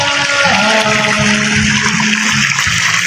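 Water gushes steadily at a foot wash beside a swimming pool at a farm in Iloilo, a loud, close, continuous rushing flow with a faint tonal hum underneath.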